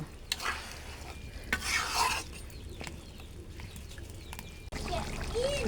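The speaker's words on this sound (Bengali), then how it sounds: "ঢাকনা উঠিয়ে নিয়ে একটু নাড়াচাড়া দিয়ে নেব, নাড়িয়ে দেব" Beef curry is stirred in a pot with a few clattering spoon strokes and a low bubbling simmer, moderately close, with a voice speaking briefly near the end.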